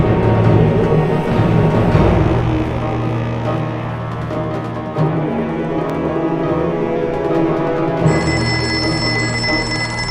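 A mobile phone rings in a TV drama scene, a steady electronic ringtone repeating loudly and close for the full length, with a tonal change near the end and no talk over it.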